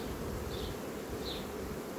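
Honey bees buzz at a colony in swarming fever, a dense continuous drone close by with a couple of brief higher whines as single bees fly past, no voices.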